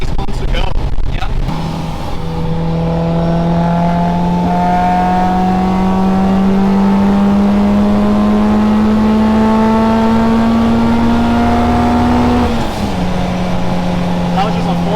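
A supercharged 1990 Acura Integra DA9 accelerates hard through a gear, its engine note rising steadily and loud with a smooth, linear climb, briefly dipping at a shift near the end while people talk over it.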